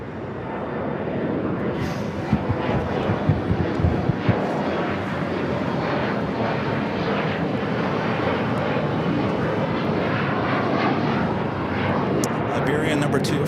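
An airliner takes off from runway 25 right at Los Angeles International Airport, its engines a loud, broad, sustained roar that stays steady for the whole stretch, with wind buffeting on the microphone.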